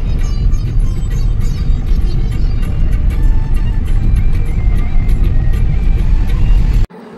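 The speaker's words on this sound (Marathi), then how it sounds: "असं आम्ही एक अर्टिका बुक केली होती. ही होती आमची कार आणि इथून आमचा प्रवास सुरू झाला होता." Steady low rumble of an Ertiga car in motion, heard from inside on a road trip toward Akkalkot and Tuljapur, a continuous engine and road drone that cuts off abruptly near the end.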